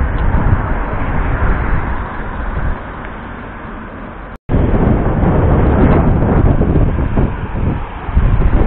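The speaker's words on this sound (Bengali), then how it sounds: "তীব্র হাওয়া চালিয়েছে।" Strong wind gusts in a hillside village in Korea, roaring as a loud, steady broadband rush that dips briefly midway, then surges again without voices.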